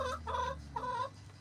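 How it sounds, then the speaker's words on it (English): Laying hens cluck close by in two quick, nasal bursts of soft clucking over a low background hum. "I have 9 laying hens"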